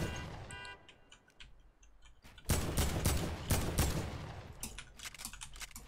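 Rifle gunfire in the Fortnite video game: a few scattered clicks, then a sharp flurry of rapid, loud shots from about the midpoint that eases off toward the end.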